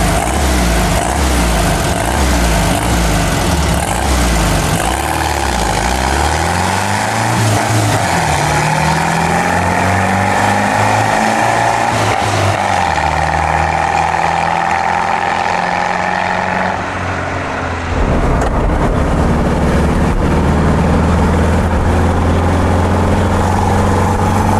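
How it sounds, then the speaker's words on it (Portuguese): A 1972 Volkswagen Beetle with a 1500 engine drives through São Paulo at night, its air-cooled engine droning and rising in pitch through the gears, then dropping to a lower hum as it shifts, close and loud throughout. "Já o motor é um 1500"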